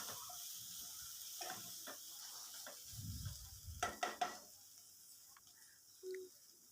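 Cabbage stir-fry with grated coconut being mixed in a pan, heard as a few soft scrapes and light clinks over a faint background hiss, quiet and sparse.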